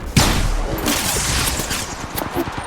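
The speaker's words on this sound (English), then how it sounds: "Taking fire!" Gunfire in the mobile battle royale Apex Legends Mobile, a dense, continuous burst of shots starting sharply and rattling on without pause, loud and close in the game mix.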